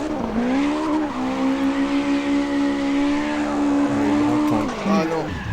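Drifting car in the mobile game CarX Drift Racing, engine revving high with a sustained tire squeal that holds then drops off as the slide ends, loud and close.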